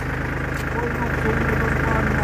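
A Kubota tractor engine runs at a steady, rhythmic idle with regular low pulsing, close and continuous, while voices are faintly heard in the background.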